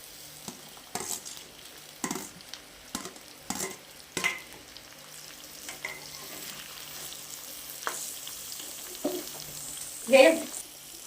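Sliced potatoes for aloo fry stirred in a pan on the stove, with soft sizzling under a series of spoon scrapes and stirring knocks spaced every second or so, and one louder clatter near the end.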